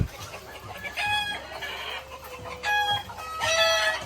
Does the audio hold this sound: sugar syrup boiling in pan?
no